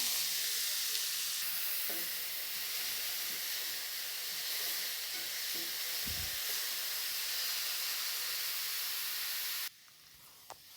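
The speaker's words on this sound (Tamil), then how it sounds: "அதையும் போட்டு நல்லா கலக்கி விட்டுக்கலாம்" Finely chopped onions sauté with fennel and curry leaves in a pan, making a steady, broad frying hiss with a few faint spoon knocks, until the sizzle drops away sharply near the end.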